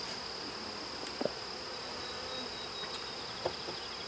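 Honey bees buzz around newly set up hives during an inspection, a steady high drone of many insects, with a few louder passes as single bees fly close by.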